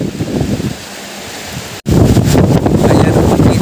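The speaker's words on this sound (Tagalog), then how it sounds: "makikita ninyo dyan sa likod ko ang napakalakas ng hangin" Strong gusting wind during heavy afternoon rain in a rural Davao area roars and buffets close by, easing briefly before a sharp cut and then returning louder with rushing, blustery noise.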